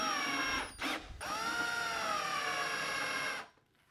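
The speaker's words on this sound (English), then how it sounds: "I'm gonna take some longer screws and basically pin them on both sides here." A power drill drives longer screws to pin a bucket in a 3D-printed bucket slip system with a spigot, giving a loud, rising motor whine in a couple of close bursts before stopping.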